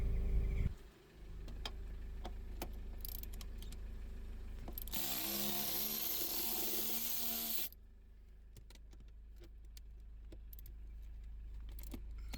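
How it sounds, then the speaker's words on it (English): A 10mm socket on a ratchet works the seat bolts loose in a Mercedes-Benz GLE, giving metallic clicks and rattles with one louder sustained stretch of grinding in the middle, close up and with no talk. "We are using a 10mm socket to remove all four bolts from the seat."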